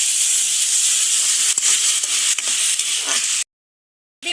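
Half a cup of water poured into a hot pan of sugar for homemade barfi, giving a loud, steady, steamy hiss for about three seconds, then a cut to silence and a brief return of hissing.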